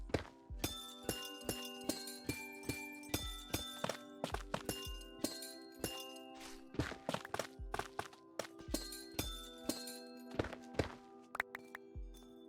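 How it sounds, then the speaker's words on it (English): Amethyst geode blocks being broken in Minecraft, a rapid series of sharp crystalline clinks and thunks with ringing chime tones, steady and close for the whole stretch. "This is only half of an amethyst geode, so I won't really feel bad about destroying it"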